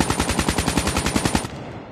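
KN-44 rifle in Call of Duty Mobile fires a loud, rapid automatic burst of about a dozen evenly spaced shots, then cuts off abruptly.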